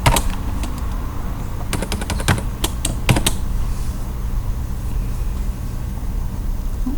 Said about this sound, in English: under validation rule, I'm going to type in